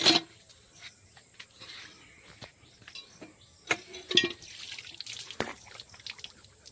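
Water from a tubewell splashes and drips in short, irregular bursts while someone washes their face outdoors, with faint crickets in the background.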